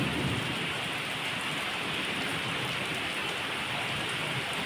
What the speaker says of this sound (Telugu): వాన ఆగు వాన